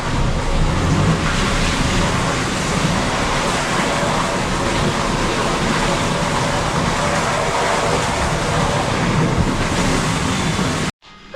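Water gushes under pressure from a pump pipe into an empty tank, a loud, steady rushing roar that cuts off abruptly at the end.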